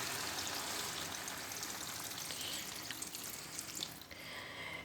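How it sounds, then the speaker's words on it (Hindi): About half a litre of water pours steadily into a pot of cauliflower, potato and pea curry. The hiss and splash are close and continuous, then ease off near the end, and no one speaks. "अब इसके अंदर डाल देंगे पानी, तकरीबन आधा लीटर के करीब मैं पानी डालूंगी इसके अंदर"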